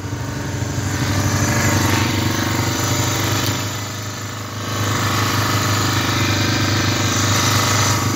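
1985 Honda Big Red 250ES three-wheeler engine running close by with a steady, buzzy single-cylinder putter that dips briefly midway and then picks back up.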